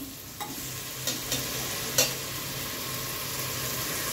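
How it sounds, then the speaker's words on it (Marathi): Onion frying in a pan until translucent, a quiet steady sizzle with a few soft scraping stirs of the spoon against the pan. "ट्रान्सपरंट होईपर्यंत कांदा जरा फ्राय करायचा"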